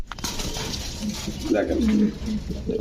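A short-tailed pigeon held in the hand coos nearby, a low warbling call rising and falling for about a second, while people talk in the background.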